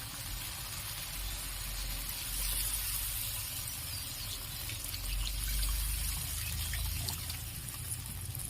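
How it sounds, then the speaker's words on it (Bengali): Water poured into sizzling fish curry masala in a pan while cooking Bengali katla fish kalia, a steady splashing trickle with a constant hiss of hot oil, continuous and fairly even throughout. "জল দিয়ে দিলাম।"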